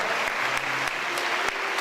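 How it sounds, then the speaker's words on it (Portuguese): A church audience claps steadily in a dense, continuous burst of applause, with a few sharper hand claps standing out and faint voices underneath. "Vamos aplaudir bem forte isso que está acontecendo"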